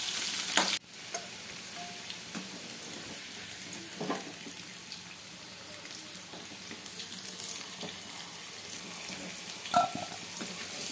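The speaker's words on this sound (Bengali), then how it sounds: "যেহেতু আমার অল্প কটা গাজর দিয়েছি, সেই জন্য আমি তেলের মধ্যে একসাথে আলুর সাথে ভেজে নিলাম।" Potatoes and a few carrots fry together in hot oil, giving a steady, quiet sizzle throughout with occasional stirring scrapes and a sharp clatter near the start.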